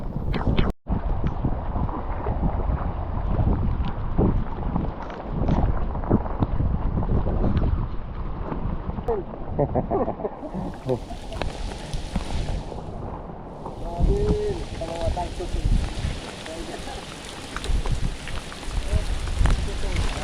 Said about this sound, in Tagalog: Pabugso-bugso yung ulan.